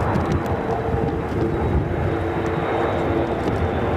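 An Airbus A400M military transport aircraft makes a tactical departure at an airshow, its turboprop engines giving a steady, loud, broad roar that holds evenly throughout with no talk.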